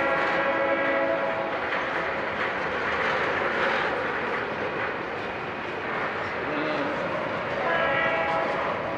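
Grand Trunk Western freight cars roll past nearby with a continuous rumbling, clattering wheel noise and a steady grinding hum that swells and eases slightly, and no talk over it.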